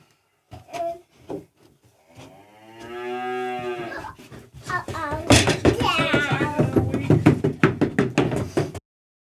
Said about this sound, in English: Is that a cow? Yes.